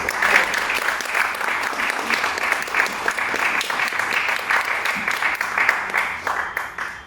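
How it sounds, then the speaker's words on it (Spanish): Loud, continuous applause from an audience at a Peruvian evening book presentation, dense clapping holding steady throughout and tapering slightly at the end. "pediría que recibamos con fuertes aplausos."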